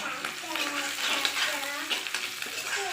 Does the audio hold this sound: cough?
no